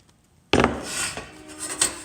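Side cutters straighten a cut piece of metal wall stud: a sharp metallic clank followed by scraping, rubbing and small clinks of tool on steel, close up with no talk.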